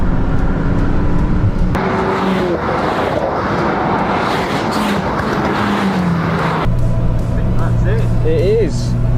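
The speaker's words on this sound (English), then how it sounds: "A MK8 Golf R on track on Silverstone" A VW MK8 Golf R, crash damaged and rebuilt, drives hard on the Silverstone track, its engine droning loud and steady with shifting pitch, under constant wind rush and cabin noise.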